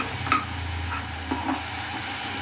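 Bottle gourd sautéing in oil for a chutney gives a soft, steady sizzle, with a few faint stirring scrapes standing out now and then; fairly quiet and close, no voices.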